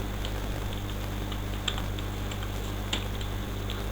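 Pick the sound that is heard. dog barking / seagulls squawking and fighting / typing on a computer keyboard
typing on a computer keyboard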